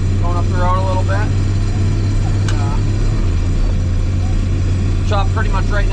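A forage harvester chopper drives up a road, its engine droning steadily and close throughout, while a person talks over the rumble.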